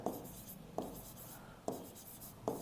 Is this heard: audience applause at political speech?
no